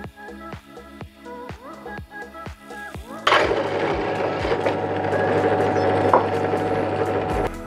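A Ryobi RDP102L drill press runs with a fast ratcheting mechanical clicking, then bites into the workpiece for its second hole, becoming a louder, dense grinding whir that holds steady until the end.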